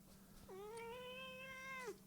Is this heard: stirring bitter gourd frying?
no